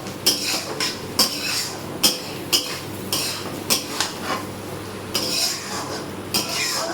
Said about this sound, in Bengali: চলো এবার আমি চিংড়ি মাছটা দিয়ে দেব, দিয়ে এই যে ভালো করে কষিয়ে নিচ্ছি